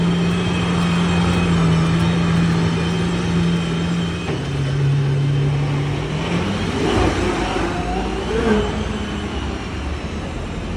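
An Aston Martin Valkyrie Spider roars as it accelerates, its loud engine note holding steady, then dipping and climbing in pitch as it pulls away past a nearby listener.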